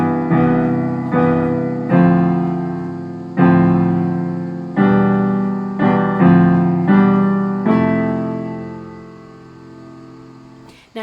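A piano improvisation built on a single interval, played as a rhythmic pattern of struck chords with sustained, decaying notes in an uneven repeating rhythm, close and clear with no talking.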